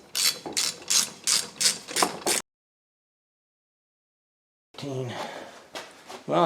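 A ratchet wrench snugging bolts on a 2004 Toyota Sienna 3.3L engine during timing belt installation, with a run of close, rhythmic clicking strokes, then a pause, then another burst of ratcheting.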